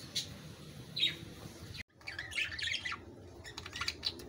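Clear-wing budgerigars calling after release into an aviary: scattered chirps and squawks at moderate distance, with a brief break midway and quieter rustling underneath.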